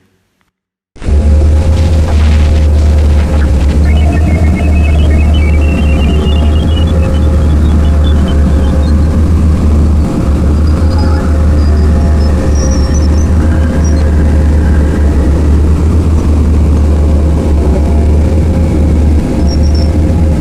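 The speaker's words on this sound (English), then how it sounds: "what does our solar system sound like, the planets and the most prominent moons together" The planets and most prominent moons of the solar system, rendered as sound, form a loud, dense, sustained drone with a heavy low rumble and faint higher tones drifting through, starting abruptly after a moment of silence.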